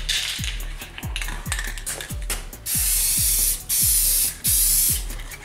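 Clear coat sprayed from a rattle can in three loud hissing bursts of about a second each, over a steady rapid ratcheting clatter from a mechanism running throughout.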